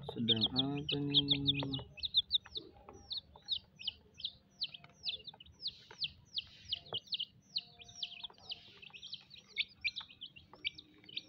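Colorful rainbow chickens in a flock, beginning with a short close cluck, then a long run of rhythmic high chick peeps repeating steadily over a low background hum.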